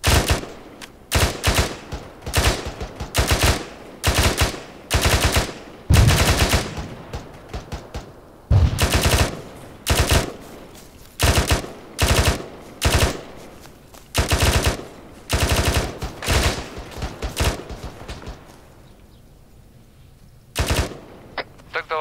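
Suppressive machine-gun fire in Arma 3: loud, sharp automatic bursts repeat steadily, one after another, with short gaps between them across the whole stretch.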